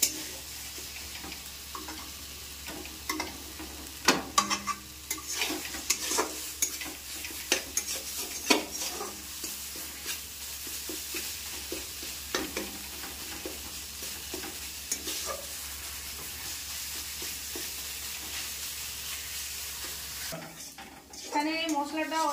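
Spice paste fries and is stirred in a kadai over a gas flame, with a continuous sizzle broken by repeated sharp spatula scrapes and knocks against the pan, growing busier toward the end.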